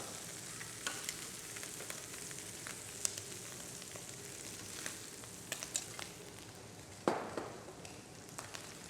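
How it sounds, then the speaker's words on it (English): Prawns searing in a paella pan alongside cuttlefish, a steady quiet sizzle with occasional pops and spits and one sharper crackle near the end, heard alone without talk. "See, I sear the prawns."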